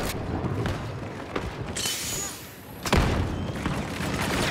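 Grenade blasts in Star Wars Battlefront 2, a couple of heavy booms with scattered debris and gunfire around them, loud and close amid the battle noise, with a voice shouting briefly.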